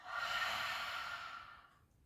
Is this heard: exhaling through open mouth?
yes